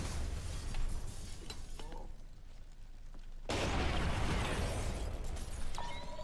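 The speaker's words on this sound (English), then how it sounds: "Who doesn't like a good explosion?" An explosion in the stealth video game Splinter Cell: Conviction, a sudden loud burst of broad rushing noise with shattering debris that cuts in after quieter background rumble and keeps roaring.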